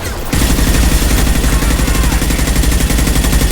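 Sustained, loud automatic gunfire in a video game that starts abruptly and continues as a dense, rapid rattle of overlapping shots throughout, close and with no talking.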